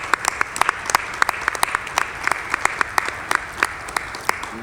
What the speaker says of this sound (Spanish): Se merece, claro, un aplauso.